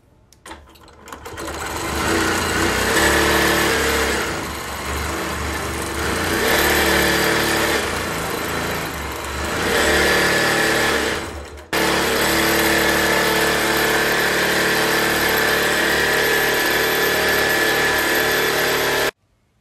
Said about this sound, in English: The sound of the machine motor does not lie.